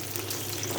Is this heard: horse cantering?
no